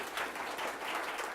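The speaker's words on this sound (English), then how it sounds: "let's hold applause to the end" Debate audience applause in a hall, a steady wash of many hands clapping throughout a brief moment, fairly even and moderately loud with no voices.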